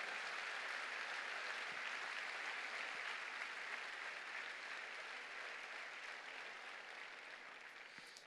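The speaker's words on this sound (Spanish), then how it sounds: "En ese caso, aplauda al Señor." Church congregation applauding during a Sunday service, a sustained wash of clapping that stays fairly steady and fades slightly toward the end, with no speech over it.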